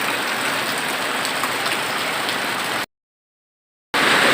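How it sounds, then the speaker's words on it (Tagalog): Steady, dense downpour of heavy rain hissing across the full range, constant and close, cutting out briefly to silence before resuming just as hard. "Buti naman walang hangin, ulan lang siya."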